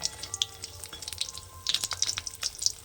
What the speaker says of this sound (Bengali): লাল করে ভেজে নেব বড়িগুলো